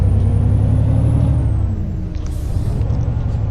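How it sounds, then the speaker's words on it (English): A truck engine rumbles low and close, then a sharp burst of air brake hiss releases before the engine drone carries on. "So as you can hear her, she's quite beautiful."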